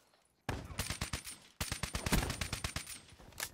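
A 12-gauge shotgun fires in Black Ops 3 co-op, with a series of sharp close blasts in quick clusters after a brief quiet start, loud and punchy over game noise.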